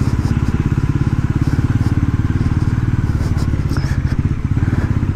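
A Bajaj Pulsar NS400Z motorcycle rolls slowly along broken city roads, its engine putting out a steady, rapid low thrumming pulse close by, with someone talking over it.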